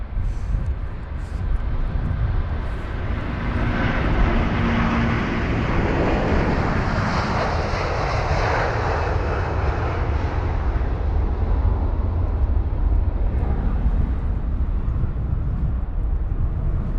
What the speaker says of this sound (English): a really nice little rotation out of London Heathrow 27 right